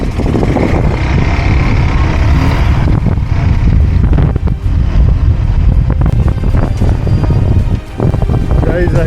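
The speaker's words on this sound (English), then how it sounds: "I think you can feel the wind over here" Strong, buffeting wind roars across the microphone while biking on a narrow mountain pass in Ladakh's Batalik sector. The gusts are loud and constant, and a voice can be heard under the rush.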